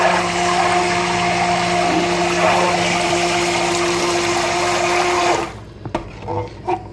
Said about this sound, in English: Make sure you keep the blender down in the oil so it doesn't splash all over.